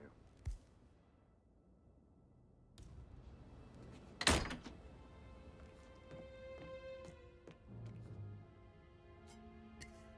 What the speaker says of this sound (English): That is the door to Mr. Fernsby's office.